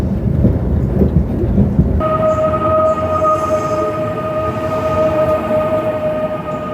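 High-speed bullet train to Tashkent, a steady loud rolling roar from inside the carriage, with a sharp shift after two seconds into a constant humming whine over the rumble, no voices.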